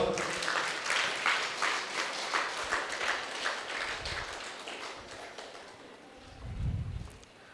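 An audience at a music meditation event gives a round of sustained applause, many hands clapping together at moderate distance, which fades near the end beneath a low rumble.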